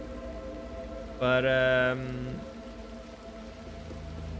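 Soft, steady rain falls in the Little Nightmares II game world, a continuous faint patter beneath a short tonal burst of a voice or game sound partway through.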